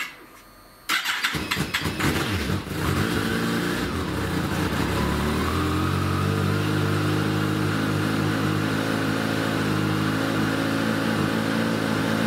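A Kawasaki ZZR1400 motorcycle engine cranks and fires after a second of quiet, then settles into a loud, steady running idle close by for the rest of the clip.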